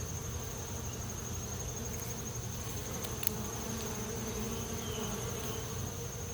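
A dense, loud, continuous hum of honeybees swarming at a hive entrance as foragers return carrying pollen, a steady close drone with no pauses and no voices.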